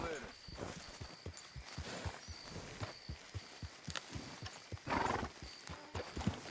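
Horse hooves trot in Red Dead Redemption 2 with a steady, even clip-clop rhythm close by, joined by a brief whinny and voices talking over the hoofbeats.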